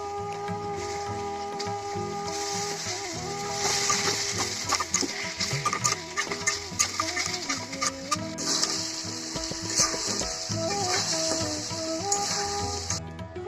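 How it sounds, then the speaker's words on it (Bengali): Spices sizzling and being stirred in a pan while cooking chicken curry, with steady frying hiss, scraping clatter and background kitchen noise throughout, no talking. "তো আমি সুন্দরভাবে মশলাটা কষিয়ে নিব।"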